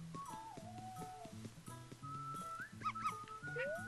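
A dog in the video game Yoshi's Crafted World gives short yips and whimpering barks over bouncy, playful game music, fairly faint in the mix, with no talk.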